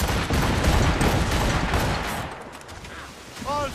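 Ship cannons fire in a dense, rumbling volley during an Assassin's Creed Rogue naval battle, loud and continuous before tapering, with a brief shouted voice near the end.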